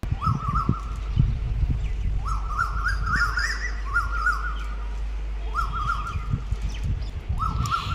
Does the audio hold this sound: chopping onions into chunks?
no